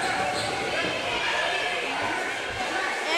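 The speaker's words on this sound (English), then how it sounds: "This Woods crowd really loud." Loud home crowd at a middle school boys basketball game, Fairfield Woods against Flood, a continuous dense roar of voices and cheering filling the gym, steady and close throughout, with a commentator talking over it.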